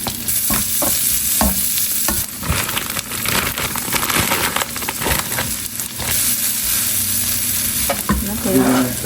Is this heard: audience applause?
no